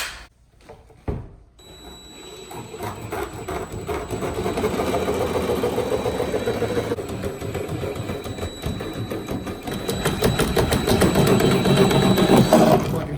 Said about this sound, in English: No pressure drilling holes in a brand new Hobie, right?